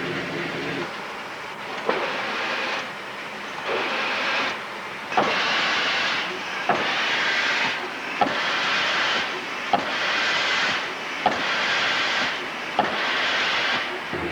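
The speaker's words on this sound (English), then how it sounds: "we're going to turn on the air pump, put the steam in there, steam operated, and let it warm up" A steam-operated air pump on a steam locomotive warms up with a steady rhythmic chuffing and hissing, each stroke about 1.5 seconds long and punctuated by a sharp click, close and loud.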